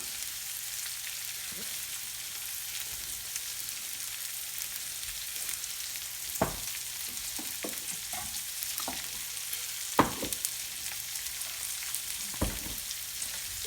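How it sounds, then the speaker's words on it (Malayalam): Sliced onion sautéing with salt in a pan for a green peas egg curry, a steady soft sizzle throughout, broken by a few sharp scraping stirs and clinks of a utensil, with no talking. "കുറച്ച് ഉപ്പൂടെ ചേർത്ത് നമുക്ക് ഈ ഉള്ളി നന്നായി ഒന്ന് വഴറ്റിയെടുക്കണം"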